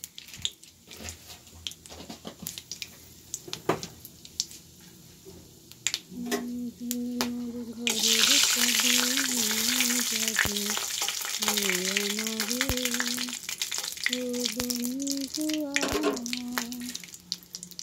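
Chopped cabbage, potato and peas land in a hot oiled pan and burst into a loud, continuous sizzle, with a spatula stirring and scraping through it and faint voices behind the frying.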